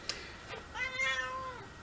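A house cat meows once, a clear, drawn-out mew at close range in a quiet room, preceded by a small tap.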